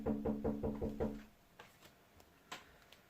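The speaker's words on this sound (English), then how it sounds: "I suddenly had a knock on the door" Five or six quick knocks on a door in a fast even run, fairly close and firm, then fading to faint room noise with a few small ticks.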